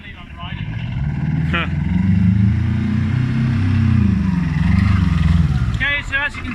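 An Arctic Cat diesel utility vehicle runs with a loud, close, steady engine drone that rises slightly as it gets moving, with occasional clatter and brief squeaks over the engine.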